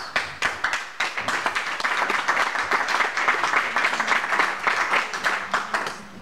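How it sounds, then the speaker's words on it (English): An audience at a county Board of Supervisors meeting breaks into applause, a dense, continuous patter of many hands clapping that holds steady for several seconds, fairly close, with no voices over it. "I don't think anyone's ever applauded for me before"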